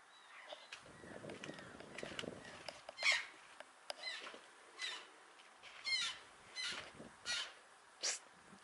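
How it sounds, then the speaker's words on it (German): Birds give sharp, squawking alarm calls around a desert hotel in Iran, a series of distinct bursts repeating every second or so against a quiet background with faint rustling. "die Vögel, die schlagen Alarm hier"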